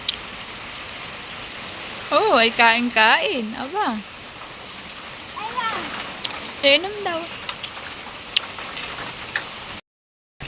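Rain falls in a constant, even hiss through a storm, with a voice and an adult speaking over it at intervals.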